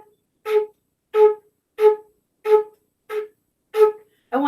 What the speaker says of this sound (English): When I play staccato, I want it to sound like this.